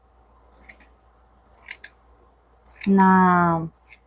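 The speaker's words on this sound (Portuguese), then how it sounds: "Então você vai cortar esse círculo" Scissors snipping through pink voile fabric to cut a circle for a doll's skirt: a few short crisp cuts, then a brief buzzing tone near the end, close and fairly quiet.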